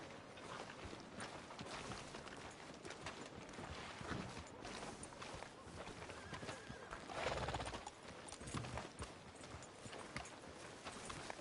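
Horse hooves clip-clop at a steady walking pace in a Western video game, with a whinny amid the busy game soundscape.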